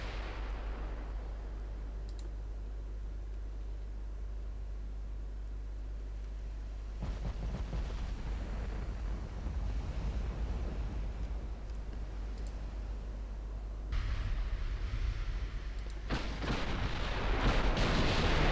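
Battlecruiser guns in Ultimate Admiral Dreadnoughts fire HE shells at a battleship in a naval battle, producing steady deep rumbling booms that build in loudness toward the end, with no talking.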